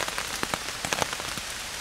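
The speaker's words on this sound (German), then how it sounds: "auf Stichwort ab 2 Uhr Regen, teilweise richtig heftiger Starkregen" Heavy rain falling in a rainforest, a dense steady hiss of downpour with individual drops pattering loudly on a nearby surface, no voices.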